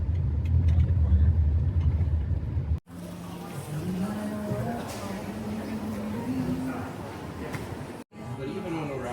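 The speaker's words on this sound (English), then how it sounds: "Let's stop Pastor John's car" A car drives along a road, its engine rumbling steadily with a rising and falling tone, then slows and stops, with brief cuts in the sound and voices talking over it.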